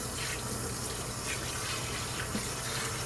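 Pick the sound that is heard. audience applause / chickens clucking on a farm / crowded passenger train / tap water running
tap water running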